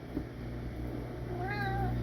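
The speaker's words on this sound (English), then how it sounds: "Meow, haunted kitty" A cat gives a single short meow near the end, heard over a steady low background hum in a kitchen.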